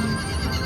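Short horse neigh from a Lightning Link slot machine bonus round, a single loud, brief whinny from the machine's speaker, alone.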